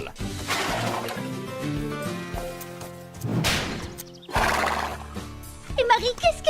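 A horse being ridden neighs in loud whinnies, with hoof clops and thuds and people talking around it.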